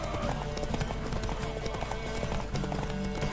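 Hooves of a galloping horse in The Witcher 3: Wild Hunt video game clip-clop in a quick, steady rhythm, loud and close, over a busy background of other sounds.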